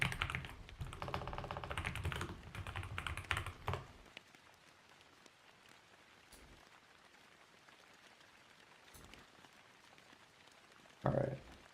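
Quick, dense clicking of fingers on a computer keyboard fills the first few seconds, then stops. A quieter room is left, with a few isolated taps and one short burst of sound near the end.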